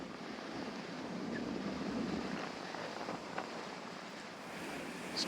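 Sea waves and wind on Teignmouth seafront make a faint, continuous wash of surf with gusty wind noise and no voices.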